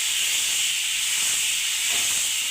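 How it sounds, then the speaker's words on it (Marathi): An egg frying on a hot tawa gives off a steady, close sizzling hiss that holds evenly throughout, with no voices. "चिकटते खाली अंडे असे फ्राय करून घ्यायचे थोडेसे"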